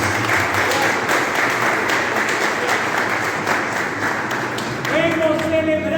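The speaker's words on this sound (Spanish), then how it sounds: "Y acompañamos a Tiago con la alegría expresada en un fuerte aplauso para él." A congregation in a church after mass breaks into loud, sustained applause, a dense steady wash of clapping that fills the room for several seconds before a voice begins speaking near the end.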